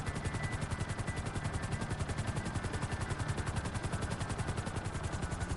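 A helicopter in GTA 5 Online flies steadily, its rotor thumping in a fast continuous beat under a constant loud engine whine throughout, with no voices.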